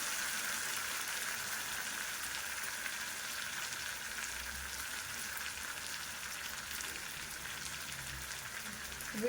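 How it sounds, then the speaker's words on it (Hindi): Chicken masala frying and cooking in a pan, a soft, even hiss of sizzling that holds steady throughout, faint and uninterrupted, with no voices. "माने चिकेन पूरा सीझी सीझी बसला न बढ़िया से कषी हो देखिए"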